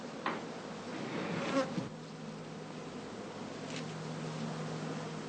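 Bees at a heather skep apiary during autumn work, a continuous, moderately faint buzzing swarm with occasional louder bees passing close to the microphone.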